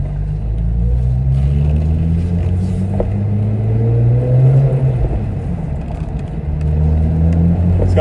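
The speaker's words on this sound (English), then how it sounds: "It's got some burbles too." The engine of a manual E93 BMW 335i rumbles steadily at low pitch with uneven popping exhaust burbles, close and loud, with no talking.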